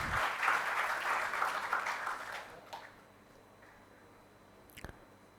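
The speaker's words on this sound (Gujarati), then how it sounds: "આ મોમેન્ટ માટે એક વખત જોરદાર તાળીઓ થઈ જાય." Applause from an audience at a formal event, a dense burst of clapping that fades away after a few seconds, leaving quiet room tone and a brief later thump.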